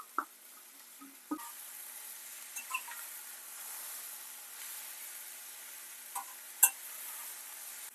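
Onions soften in oil for paneer butter masala: a faint, low sizzle runs underneath while a spatula knocks and clicks against the pan now and then, sharp and close, with no voices.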